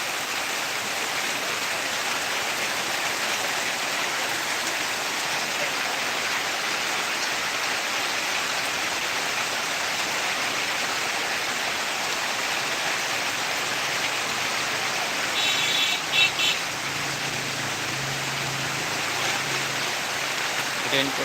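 Heavy rain pours down steadily in Rangpur in a dense, continuous roar, with a few louder splashes near the end and no voices.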